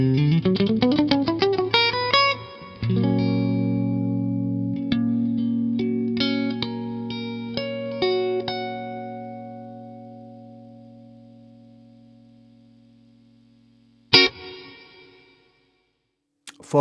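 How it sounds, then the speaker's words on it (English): Electric guitar played clean through a König amp into a loadbox: strummed chords and picked notes ring out loud and close, sustained chords decaying slowly, a sharp final strum near the end. "Let's start with a clean sound through my König amp."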